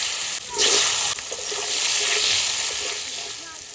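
Potatoes fry in oil with a close, fairly loud hiss and sizzle that rises and falls, with a few brief knocks.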